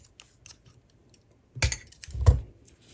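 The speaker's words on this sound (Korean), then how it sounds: "이렇게 나와 있는 끝에 부분은 잘라주세요" Scissors snip loose ribbon yarn ends after knotting a crocheted net sling bag: two short, close, crisp cuts come after a few faint light clicks, with no talking.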